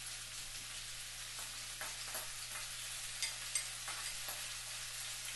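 Ground garlic sizzles in a pan of oil for a stir fry, a steady close crackle over a low constant hum, with a few soft stirring knocks.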